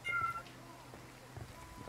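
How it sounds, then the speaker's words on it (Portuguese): Cat meowing in the Ghost Recon Wildlands video game, one short high meow near the start, faint under game ambience and low background noise. "o gatinho é miando aqui"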